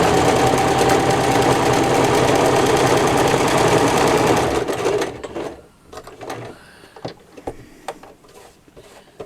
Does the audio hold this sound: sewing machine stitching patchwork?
yes